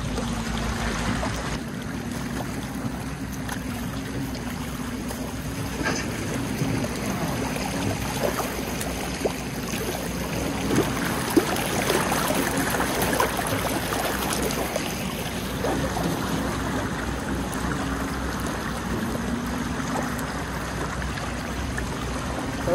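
River water flows in a steady, rushing stream at a cold early-morning bathing spot, a constant wash of sound with faint splashes and trickles throughout.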